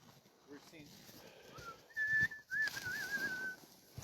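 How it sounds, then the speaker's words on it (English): A thin, high whistle sounds at the start of a Copper Basin 300 sled dog race at Tolsona Lake, Alaska, in a few short wavering blasts over a quiet outdoor background, fairly faint and distant. "Got the whistle going on."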